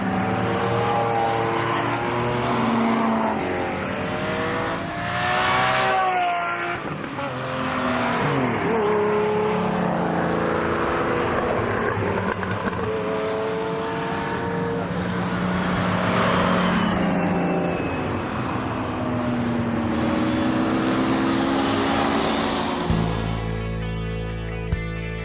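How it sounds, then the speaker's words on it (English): A long procession of Lamborghini sports cars passing close by at an anniversary event, engines roaring and revving in overlapping waves, pitches rising and falling as each car goes past, continuous and loud with no pauses. "to hear nearly 100 Lamborghinis go by"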